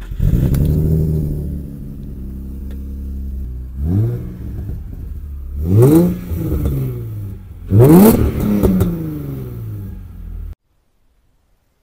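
Nissan 350Z V6 engine revving hard through an aftermarket exhaust, with a steady idle rumble broken by three sharp, loud rev blips that rise and fall, close by, with a few words spoken at the start.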